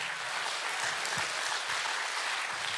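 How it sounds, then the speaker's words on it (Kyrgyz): Audience applause at a Kyrgyz stand-up comedy show, a steady dense wash of clapping that fills the whole stretch at even loudness, with no voice over it. "Өзүңөргө ана мага бир дух берип кол чабып коюңуздар"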